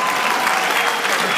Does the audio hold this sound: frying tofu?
no